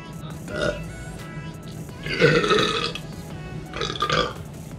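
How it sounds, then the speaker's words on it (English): Three burps in a row after drinking sparkling water: a short one, then a long, loud, rumbling belch, then a shorter one, all close and with no talking. "Oof, I just burped up my supper"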